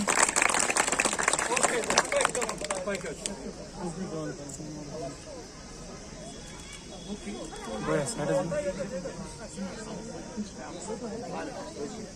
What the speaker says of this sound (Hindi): इनके लिए दिल से जोरदार तालियां बजा दीजिए।